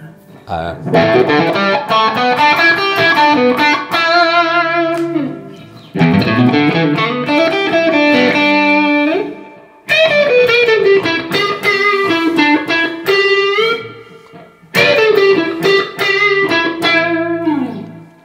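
An electric guitar plays through the distorted channel of an amplifier with no pedals engaged, in four loud, gritty phrases of chords and single notes, each separated by a short pause.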